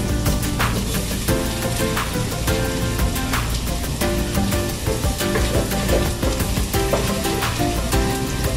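Ginger and garlic sizzle steadily in a pan for a simple arroz caldo, a dense continuous frying hiss with faint crackles throughout and no talk.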